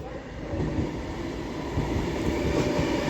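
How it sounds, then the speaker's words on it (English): A CrossCountry Voyager train passes at Stafford station with a loud, steady rolling roar that holds at close range for a few seconds. "behind me should be a cross-country Voyager running from Manchester Piccadilly to Bristol Temple Meads"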